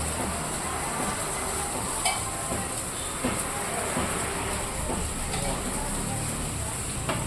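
Rava dosa batter frying in oil on a hot pan gives a steady, close sizzle throughout, with faint clinks and scrapes over a broad hiss.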